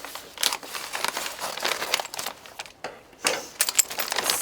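A plastic bag of seed starting mix being cut open, with crinkling and tearing plastic rustles that run close and steady, break off briefly, then resume.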